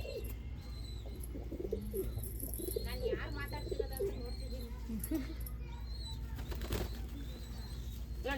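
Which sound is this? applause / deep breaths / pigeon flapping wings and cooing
pigeon flapping wings and cooing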